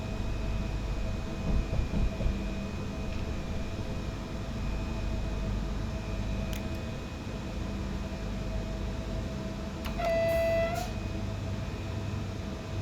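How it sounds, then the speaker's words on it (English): An AI-controlled train rumbles past in the SimRail multiplayer rail simulator, a steady low roar across the whole stretch, with a brief horn-like tone swelling near the end. "That's an AI train."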